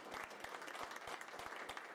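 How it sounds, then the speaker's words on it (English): An audience applauding at a local district election debate, a brief burst of dense clapping from a modest crowd, fairly close and steady. "Let's give them a round of applause"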